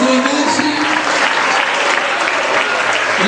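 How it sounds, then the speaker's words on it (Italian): Steady, dense applause from a studio audience honoring the contestants of an Italian televised competition, loud and continuous throughout with a crowd wash and no break. "un inchino grande al pubblico, un grande applauso"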